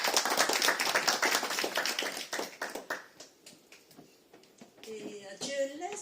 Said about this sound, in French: Et nous voulons aussi applaudir pour le venue de nos intervenants spéciaux, Pasteur Laszlo.